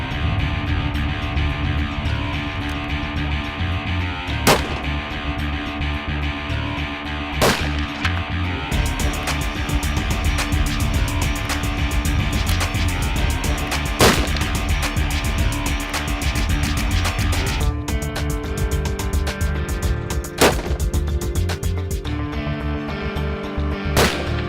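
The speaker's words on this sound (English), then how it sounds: "just finished shooting here on the range and we're in pretty good shape" Rifle shots fired while sighting in at a shooting range, sharp loud reports at irregular intervals, about seven over a continuous dense background roar, heard close and with no talking.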